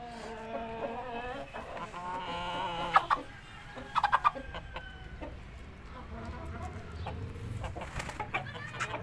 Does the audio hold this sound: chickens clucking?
yes